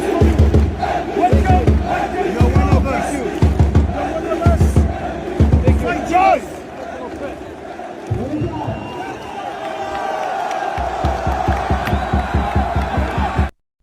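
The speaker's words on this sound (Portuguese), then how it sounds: "a torcida cantou o nome dele, aplaudiu de pé e transformou o estádio em um verdadeiro caldeirão" Stadium crowd chanting rhythmically in unison for Brazilian footballer Endrick, a loud pulsing chant with cheers and a roar that rises and falls across the stands.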